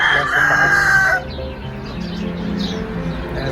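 Rooster in a Filipino backyard gives a loud, close crow lasting about a second, followed by softer clucks and chicken murmurs over faint outdoor background noise.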